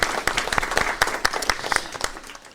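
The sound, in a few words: audience applauding the Tarascon rugby club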